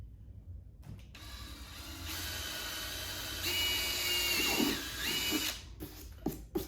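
A power drill with a 13/64 bit whirs steadily for several seconds, its pitch rising and dipping as the bit bites in, then winds down into a few clicks and knocks, during work on a 2022+ BMW K1600B motorcycle.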